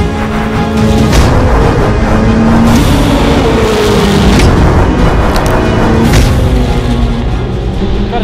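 Ferrari Challenge race car at Sepang circuit, its engine loud and continuous as it revs hard toward redline, with rising harmonic tones across several gear shifts.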